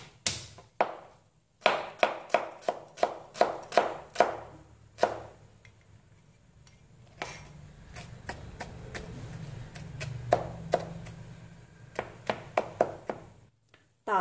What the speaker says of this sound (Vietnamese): Hành thơm mình sẽ băm nhỏ ra.